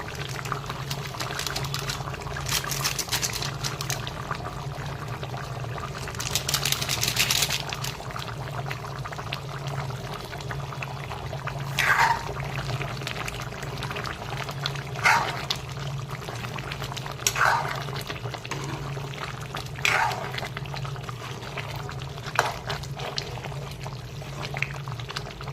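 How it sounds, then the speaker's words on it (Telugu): Chicken curry simmers in a pot with a low, steady bubbling and occasional soft pops and splutters, fairly quiet and close, with no talking over it. "ఇప్పుడు కొంచెం తెరలేటప్పటికి చూడండి ఎలా ఉడుకుతుందో"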